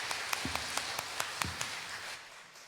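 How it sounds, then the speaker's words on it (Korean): A congregation claps during a Sunday church service, a short run of distinct, evenly spaced claps that thins out after about two seconds, quiet in a reverberant hall. "박수 올려드리겠습니다."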